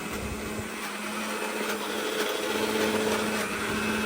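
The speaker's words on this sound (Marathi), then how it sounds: "हे सगळं आता मिक्सरला ग्राइंड करून घेऊया आपण" A mixer grinder whirs loudly and continuously at high speed for a few seconds grinding herbs and coconut into a dry paste, close and steady, without any speech.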